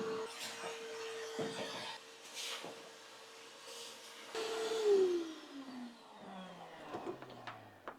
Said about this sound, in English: while Andrew's vacuuming the inside, all the little metal dust